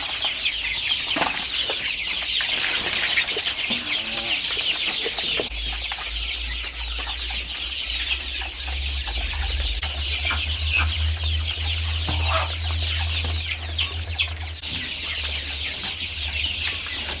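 Free-range Indonesian village chickens (ayam kampung) cluck and chatter steadily, with rooster-like calls and a burst of wing flapping near the end, all against a low rumbling background.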